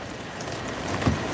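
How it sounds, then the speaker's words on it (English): Heavy rain pours down outside in a steady, dense hiss, with a brief thud near the end and no voices. "it is pouring down rain out there"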